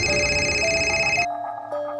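Telephone ringing in a radio drama set in a Chennai apartment: a steady electronic ring tone, loud and close, that cuts off abruptly, followed by a faint sustained tone.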